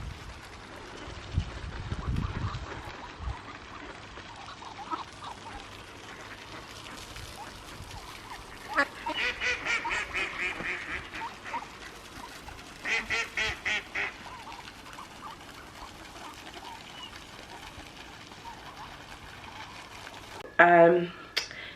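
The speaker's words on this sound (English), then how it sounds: "a big sort of like duck pond in the middle of the sort of complex place" Ducks at a pond in the middle of a residential complex quack in several loud, rhythmic bursts, with a person talking nearby between and under the calls.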